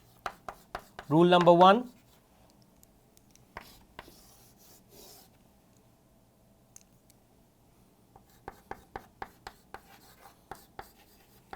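Chalk or marker strokes tapping and scratching across a classroom board in short bursts, close and crisp, with a brief spoken phrase early on and quiet gaps between strokes.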